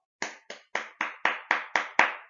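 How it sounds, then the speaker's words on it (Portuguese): Eight sharp hand claps in an even, steady rhythm, close and loud, with no talk around them. "palmas."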